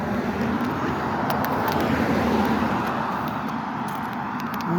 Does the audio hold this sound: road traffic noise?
yes